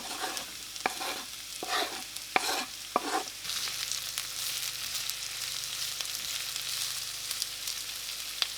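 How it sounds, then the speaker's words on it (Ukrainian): Onion sizzling and crackling steadily in vegetable oil in a hot pan, with a few sharp clatters of stirring early on, then a continuous hiss. "Викладаємо підготовлену цибулю на добре розігріту пательню з рослинною олією."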